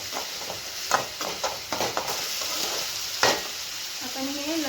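Two finely chopped onions frying lightly in a pan, a continuous close sizzle broken by several sharp spoon scrapes and stirring knocks, with no voices.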